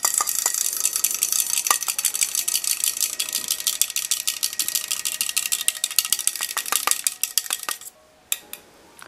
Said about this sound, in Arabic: حنا خلطنا مزيان